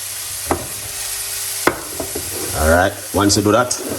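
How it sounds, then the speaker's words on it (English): Cauliflower fried rice stir fried with peppers, a continuous sizzle broken by sharp utensil clacks against the pan, with a voice briefly speaking near the end. "put in the peppers them like this inside of it and stir fry it."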